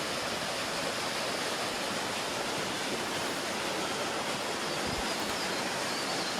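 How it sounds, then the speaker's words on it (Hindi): Waterfall in Sikkim fed by glacier meltwater, a constant broadband rushing roar that stays steady and dense throughout. "पानी का झरना भी है, ऊपर कहीं ग्लेशियर से पानी आ भी रहा है"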